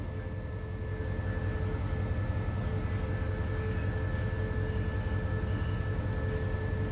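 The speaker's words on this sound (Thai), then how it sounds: "ตอนนี้ริ้วของขบวน971เข้ามาเทียบในชานชาลาที่3" Train 971 pulling into platform 3 at Hua Lamphong station in Bangkok, a steady broad rumbling roar with constant high whining tones, growing slightly louder after the first second.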